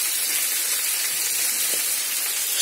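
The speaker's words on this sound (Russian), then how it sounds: "Жарятся котлетки." Meat cutlets fry in a pan, giving a steady, close, broadband sizzle and hiss that holds evenly throughout with no talking over it.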